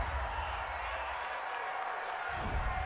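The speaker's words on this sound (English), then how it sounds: "Well, this crowd does not like that call." A stadium crowd at an NFL game between the Carolina Panthers and Pittsburgh Steelers reacts to a roughing-the-passer penalty with a steady, distant roar of jeers, swelling slightly near the end.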